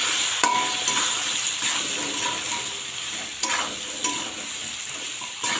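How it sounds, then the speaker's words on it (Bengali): Vegetables with turmeric and salt are stirred in a hot pan, a steady sizzle punctuated by a few sharp scrapes and taps of the spatula, close and without speech. "সব কিছু একসঙ্গে এখন নেড়ে নেব।"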